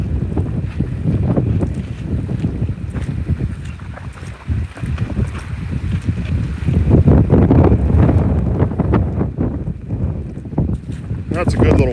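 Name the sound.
wind gust during Hurricane Francine by a lake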